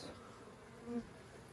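Honeybees buzz inside an opened hive packed with honey, a soft, steady hum with one brief closer buzz swelling past near the end.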